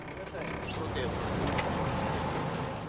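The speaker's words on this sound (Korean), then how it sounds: "오늘은 새벽부터 바람이 강합니다." Strong wind roars steadily on a small fishing boat at sea off Geomundo island in winter, a dense full-band rush with water and hull noise beneath, constant and close.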